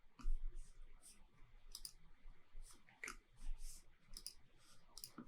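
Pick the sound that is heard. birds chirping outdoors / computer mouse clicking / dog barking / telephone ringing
computer mouse clicking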